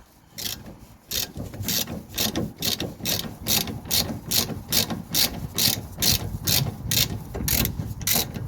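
A ratchet working loose a stuck steering arm bolt on a Mercedes C-Class, with close, regular clicking strokes repeating steadily in rhythmic bursts and no talk over them.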